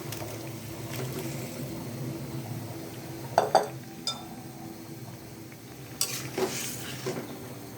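Fish pieces going into simmering broth in a pan with ridge gourd, a low steady bubbling bed broken by a few sharp clinks and splashes of pieces dropping in, close up.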